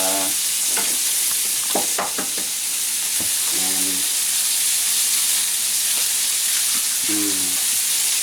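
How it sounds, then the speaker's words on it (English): Eggs are cracked gently into a shakshuka pan that sizzles steadily in the background, while a few sharp cracks and taps sit over the constant frying hiss. "I'm just going to crack these very gently"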